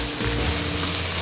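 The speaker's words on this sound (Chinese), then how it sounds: "猪肉炒香之后，就把蒜头、葱段、韭菜梗把它拨进去" Pork belly being stir-fried with garlic, scallion pieces and chive stems in a wok, a steady close sizzle running without pause for a brief moment, no voices over it.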